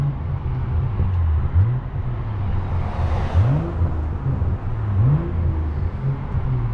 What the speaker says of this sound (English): Let me get a little rev